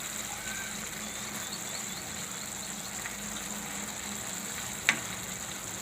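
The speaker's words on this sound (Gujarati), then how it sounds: "તો હવે આપણે આને ફેરવી લઈએ, થોડુંક હલાવી લઈએ શાકને." Spinach and gram flour curry sizzling and frying steadily in a pan while being stirred, with one brief louder scrape of the spoon against the metal partway through.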